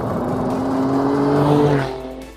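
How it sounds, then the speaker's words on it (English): A 2018 Alfa Romeo Stelvio Quadrifoglio revs hard at full throttle, its loud, close engine note climbing steadily before easing off at the end, with no other sound over it. "listen to that engine when it's on full noise"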